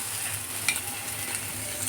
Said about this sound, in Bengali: আমরা প্রায় 5 থেকে 10 মিনিটের মতো শাকটাকে খুব সুন্দর করে ভাজা করেছি।